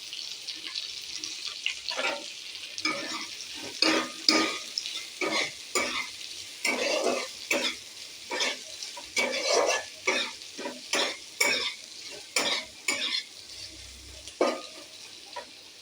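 Chopped onion frying in oil with black cumin for a rohu fish curry, a continuous sizzle with rapid, rhythmic scraping stirs throughout, close and fairly loud, no speech.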